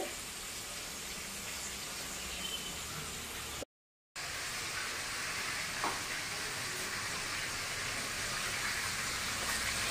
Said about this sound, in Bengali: তেলটাকে একটু ঘুরিয়ে ঘুরিয়ে ভাজতে হবে, নাহলে মাছগুলো ভালো করে ভাজা হবে না